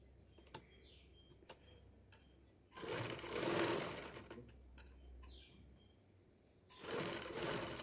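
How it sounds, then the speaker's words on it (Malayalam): A sewing machine stitches slowly along the top of cloth piping for a round neckline, running in two short buzzing bursts with quiet pauses and a few faint clicks between them. "മുകളിലൂടെ പതുക്കെ പതുക്കെ സ്റ്റിച്ച് ചെയ്ത് കൊടുക്കുക കേട്ടോ."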